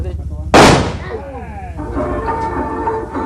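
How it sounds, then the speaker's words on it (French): A single sharp firecracker bang, set off by a thrown stone, bursts out suddenly, loud and close, then fades into a busy outdoor background with voices chattering, in the Quindío and Tolima mountains, 1965. "il s'agit de bien viser pour que la pierre tombe sur un pétard"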